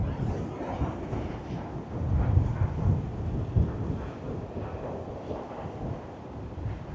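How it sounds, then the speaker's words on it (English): Ocean waves roll in at Penmon Lighthouse at low tide, a rumbling wash of surf with swelling low surges, mixed with blustery wind buffeting the microphone. "Wow, some really good waves coming in now."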